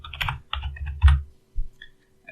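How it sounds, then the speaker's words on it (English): Keys clatter on a computer keyboard in short, quick bursts of typing with brief pauses between them, close and fairly quiet. "type downloads"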